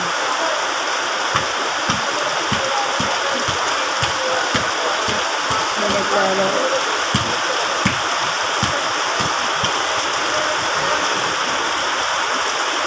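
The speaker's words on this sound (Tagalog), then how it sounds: "Thank you Lord sa ulan." Rain falls in a constant rushing hiss, with scattered louder drops spattering close by and a brief voice speaking faintly beneath it.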